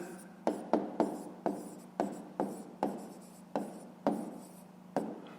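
Pen or pencil writing out a fifth-grade math solution on paper, a series of about ten short scratchy strokes in an irregular rhythm, close and fairly loud, with no talking.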